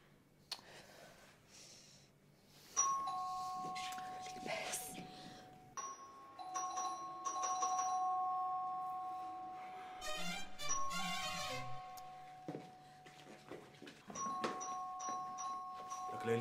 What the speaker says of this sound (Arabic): لسه الجرس عم يرن.